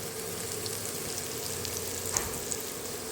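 Potatoes and peas with onion and salt fry in a pan, making a soft, steady sizzle with occasional light crackles and stirring sounds, close but fairly quiet.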